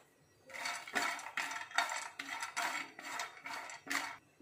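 Cashews and two cardamom pods dry-roasting in a pan, giving a series of about eight scraping, rattling stirs in a steady rhythm, each a short rasping burst of nuts and spoon against the metal, close and fairly quiet with no talk.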